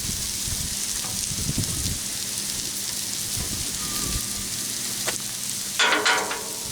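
Mushrooms sauté on a Blackstone griddle for cheesesteaks, giving a steady rain-like sizzle up close, with a few faint scrapes and a brief louder burst of crackle near the end, with no talking.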